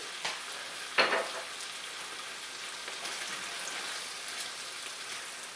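Spicy Mongolian beef cooks in a hot pan with hoisin and chili garlic sauce, producing a steady bubbling sizzle with a sharp stirring scrape about a second in and soft utensil taps afterward.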